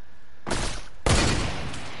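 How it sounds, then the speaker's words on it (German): Two sharp gunshots in a video game, the first near 0.5 s and a louder, closer one just after 1 s, each trailing into a broad decaying tail with no talk over them. "Von hinten irgendwo kam der Schuss."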